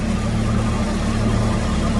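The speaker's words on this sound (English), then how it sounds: "Got the loader just sitting here idling" A Farmall Super C tractor with a front loader idles close by, its engine giving a loud, steady low rumble with an even throb that holds level for the whole short stretch.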